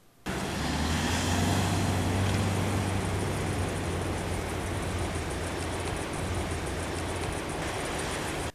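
A four-wheel drive vehicle crawling in 4 low, a steady loud broadband rumble with a low engine drone and constant wind-like roar throughout, no talking.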